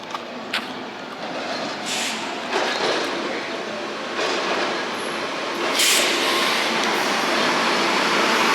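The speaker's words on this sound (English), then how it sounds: "It's this train." A light-rail train runs along a street rail line in Buffalo, New York, close and loud, with a sustained rumble and roar, rising hiss bursts like air brakes, and a louder swell toward the end.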